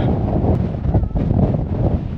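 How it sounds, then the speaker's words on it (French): Steady wind buffeting the microphone in Vashlovani, Georgia, near the Azerbaijan border, a dense low rumble that holds for a couple of seconds with brief dips, loud and close. "Il y a du vent là un peu."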